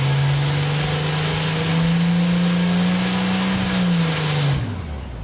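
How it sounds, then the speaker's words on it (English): A turbocharged Ford 300 inline-six on a dyno holds a loud, steady drone that rises slowly in pitch through a power pull, then drops away near the end as the run finishes. "It ran awesome with no leaks, knocks, or pings, so some power pulls were in order."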